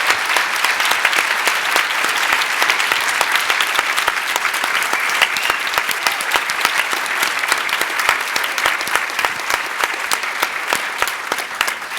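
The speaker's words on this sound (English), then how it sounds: "I think we should applaud, I don't know if your parents are here or not," A large audience at a storytelling summit session applauds the parents with dense, steady clapping that stays loud and sustained throughout, without a break.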